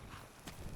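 A horse trots up in Skyrim, brief muffled hoof clops close by under a soft ambient wash.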